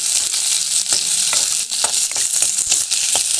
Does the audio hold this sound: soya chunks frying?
yes